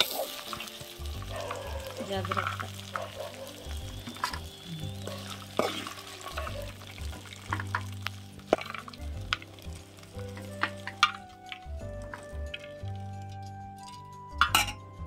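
Oil frying in a pot while gongura pickle is being made, a steady sizzle broken by stirring scrapes and sharp metallic clinks of a utensil against the pot, with a brief spoken word.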